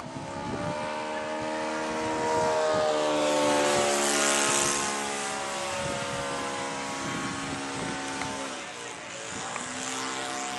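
A Pasta-brand model airplane comes in to land on a grass field at an airfield, its small propeller engine droning steadily and rising then easing off as it passes close, with people talking nearby.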